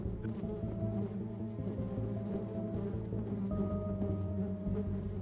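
An invasive bee buzzes in a steady, continuous drone with a layered hum, close and fairly loud throughout, with no voices.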